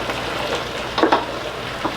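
Beef heart meat frying in a skillet that is not very hot, a steady soft sizzle with a brief louder crackle burst near the middle, with no voices.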